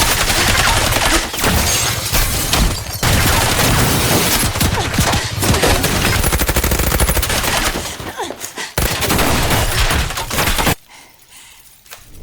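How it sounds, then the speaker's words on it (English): Heavy rifle gunfire tearing apart a store, dense rapid bursts of loud automatic shots with crashing debris, continuing in waves before cutting off abruptly near the end. "a group of men appeared and opened fire with heavy rifles, tearing the store apart"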